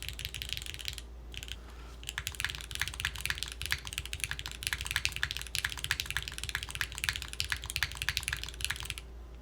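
Typing on a Neo60cu mechanical keyboard built with a plastic plate and gaskets: steady, rapid close-up clacks and thocks in an even rhythm, with short pauses at the start and end and no speech.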